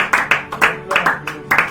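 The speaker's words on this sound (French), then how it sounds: "Clap for the Lord." A church audience claps in unison at a worship meeting, with about nine sharp, evenly spaced claps in a quick steady rhythm, loud and close.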